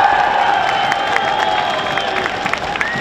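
A crowd at the opening ceremony of a youth sports cup in Ljusdal cheers and applauds, a dense, steady wash of clapping and shouts with scattered whoops and whistles.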